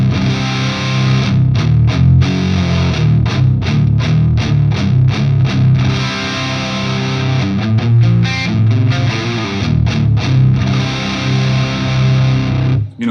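Clean-toned but crunchy electric guitar through a Marshall amp playing fast palm-muted riffs in drop D with brief gaps, with no effects pedal.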